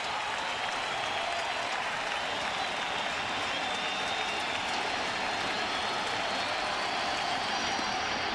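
Crowd at a Marlins vs Mets baseball game in 2006 cheers and applauds in a loud, sustained roar that holds steady throughout with no break.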